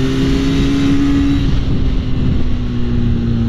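A Benelli Leoncino Trail 500 parallel-twin motorcycle engine revs loud and close in a steady, droning roar that holds at high pitch for a few seconds, with no talking.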